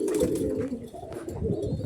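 Pigeons coo continuously and close by in a breeding loft, low rolling calls layered over one another with no pause, loud and steady throughout.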